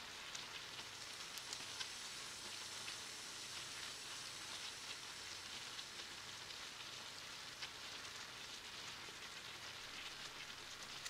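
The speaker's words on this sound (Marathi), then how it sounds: "त्याच्यात आता धुवून ठेवलेली जी डाळ होती ती डाळ घातली चांगली आणि ती डाळ पण मी परतून घेणार आहे." Washed lentils being sautéed in a pan for sambar, giving a steady, close, moderately loud sizzle that runs without pause the whole time.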